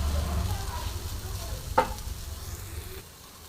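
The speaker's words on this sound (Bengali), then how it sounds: "আমার কিন্তু দেখো সুন্দর ভাজা ভাজা হয়ে গেছে থোরটা" Banana stem frying in oil with mustard and coconut paste in a pan, a steady close sizzle with one sharp stirring scrape midway, fading slightly toward the end, no talk.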